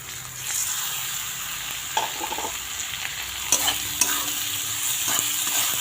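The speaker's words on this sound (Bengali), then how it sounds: "ডালটা দিয়ে একটু নাড়িয়ে নিলাম" Rice and lentils for khichuri are stirred in a hot pan, with a steady close sizzle of frying under repeated scraping strokes of a spoon against the metal and no talk.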